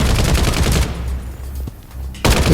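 Gunfire rings out in the Bloodstrike shooter game: a loud rapid burst of shots, a brief gap with a couple of isolated cracks, then another burst starting sharply at the end.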